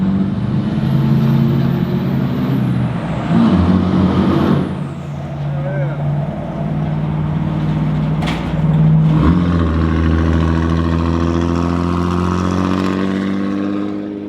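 A diesel truck engine runs steadily with a loud, rough, low drone throughout, a brief hiss of air bursting out partway through, and faint voices in the background.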